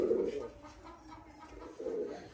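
Rajshahi Giribaz pigeons coo softly nearby, two low rolling coos separated by a short pause, with no other sounds around them.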